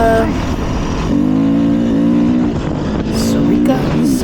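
A 2020 Beta 500 RR-S dirt bike engine drones steadily as the bike is ridden through the desert, rising and falling with throttle changes, with loud wind-buffeted engine noise throughout.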